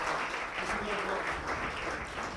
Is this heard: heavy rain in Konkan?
no